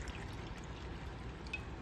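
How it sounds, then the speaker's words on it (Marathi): Hot water is poured into sugar in a kitchen while making a raw mango drink, a brief, steady close pour with a continuous liquid gush and no talk. "त्याच्यामध्ये बघा 1 कप मी गरम पाणी घेत आहे"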